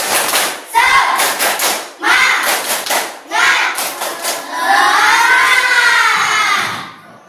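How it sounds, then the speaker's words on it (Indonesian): A group in a school classroom performs a rhythmic spirit clap routine, bursts of clapping in patterned groups with voices chanting along, ending in a sustained shout. "Tepuk semangat."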